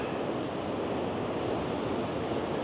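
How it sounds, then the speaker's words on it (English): A waterfall swollen after heavy rain roars as a steady, dense rush of broadband noise, unbroken and even throughout with no voices. "there's another view of the falls"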